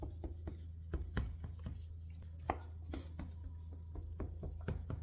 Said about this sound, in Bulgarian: Вземам един остър нож и разрязвам баницата.